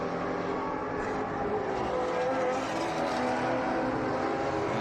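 A race car roars past on the track during a Sebring SpeedTour event, a loud, steady engine drone that stays close and continuous throughout.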